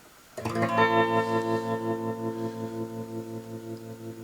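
A single sustained guitar chord struck once and left to ring through a Seymour Duncan Shape Shifter tremolo pedal set to triangle wave, its volume pulsing in a smooth, steady wobble as it slowly fades.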